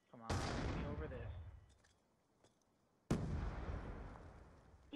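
Two loud booming grenade blasts in a first-person shooter video game, each with a long rumbling decay, about three seconds apart, with no talk over them.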